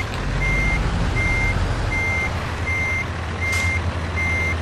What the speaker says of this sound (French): pour essayer de replacer votre camion parallèle à votre remorque et en dessous de la remorque.